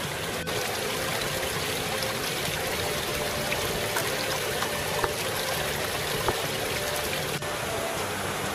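Water in a creek beside a mountain hiking trail rushes in a steady, even, continuous wash, close and unbroken for the whole stretch, with no talking.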